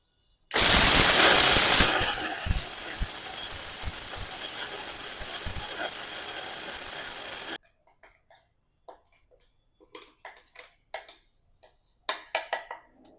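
Electric grinder whirring through a laddu mixture in a home kitchen, a sudden loud burst that settles into a steady drone for several seconds, then stops, leaving faint clicks and knocks.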